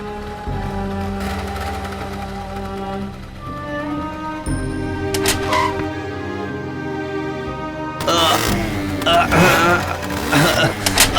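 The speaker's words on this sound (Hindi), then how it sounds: "धात तेरी की, ये स्कूटर भी बिल्कुल खटारा हो चुकी है।" An old, worn-out rattletrap scooter engine sputters and drones in a cartoon scene, its rough buzzing tone shifting and then bursting into a louder, clattering rattle, with a voice speaking over it.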